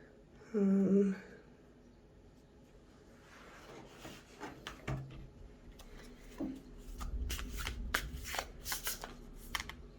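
Tarot cards being shuffled close up, a brief tonal knock early on and then quiet rustles building into a run of crisp riffling snaps and card flutters, with no talk.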